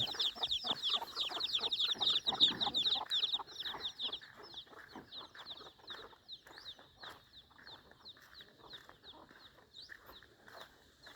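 A spotted chicken clucks repeatedly amid a dense run of chirping bird calls, loud at first and then softer and steadier throughout.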